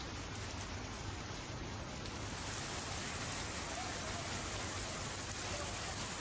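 A rain shower pours down steadily during the monsoon season in Gujarat, a dense, even hiss of falling rain that stays constant and fairly loud throughout, with no voices.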